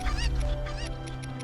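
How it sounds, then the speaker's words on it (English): Cuccos, the chickens of Hyrule Warriors: Age of Calamity, swarm on the attack with a burst of loud, honking squawks and cackles over a steady game backdrop. "Thank you for the chicken attack."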